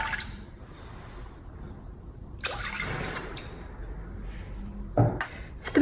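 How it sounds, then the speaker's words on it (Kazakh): Milk and water are poured into a pot while making choux pastry, with short splashing, gurgling pours separated by quiet gaps, close and moderately loud. "Сүтіміз бен суымызды құйдық."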